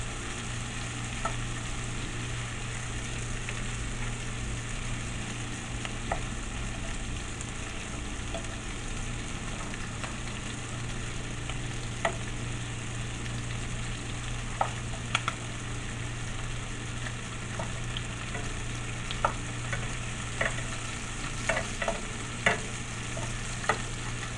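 Salmon fillets sizzle steadily in a hot pan, a continuous close frying hiss with a low hum beneath, broken by scattered sharp clicks and scrapes as the pieces are turned over; no one speaks.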